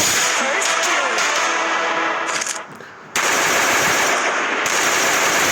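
Rapid bursts of automatic gunfire in the video game Free Fire crackle loudly with a sharp echo, broken by a brief quieter gap before firing resumes.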